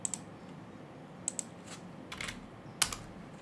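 Sparse keystrokes on a computer keyboard as text is typed into Notepad, a few quiet isolated clicks scattered over a faint hum, with no talk.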